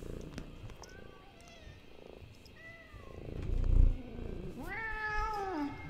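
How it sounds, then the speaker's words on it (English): A house cat gives a faint, low purr close to the microphone, broken by several soft rising meows and chirps, with no one speaking. "Can I at least get a purr out of you for the audience?"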